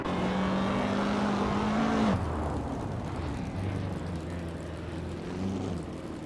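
Classic IndyCar race cars in a racing video game roar past with a high engine whine that drops sharply in pitch, then settles into lower, steady engine drones from several cars.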